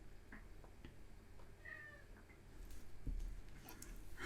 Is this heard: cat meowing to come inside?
yes